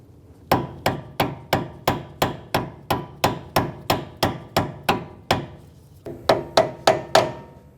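A brass punch hammered against the front inner tie rod of a 2011-2017 Honda Odyssey rings out in about seventeen steady, evenly spaced metallic strikes. After a short pause, five more quick blows follow, all close and loud.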